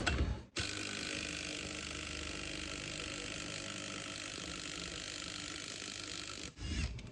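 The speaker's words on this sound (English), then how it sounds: "I'm going to start by pulling off the actual pulley itself." A pulley being removed from an old alternator from a 2006 Subaru WRX STi, likely with a power tool, a steady loud mechanical whir running for about six seconds before stopping abruptly.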